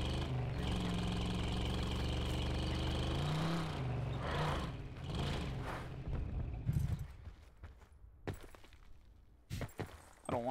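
A vehicle engine in Call of Duty Blackout, a loud rumbling drone for several seconds that cuts out, followed by scattered knocks and clatters.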